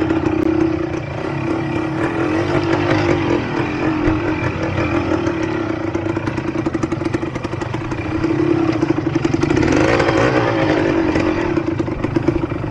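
Dirt bike engine revving and running steadily on a mountain trail, loud and close throughout with a continuous droning hum and rough mechanical rattle, swelling louder toward the end.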